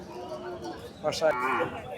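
At a busy cattle market, a bull lets out a short, fairly close moo over a murmur of crowd noise and faint talk.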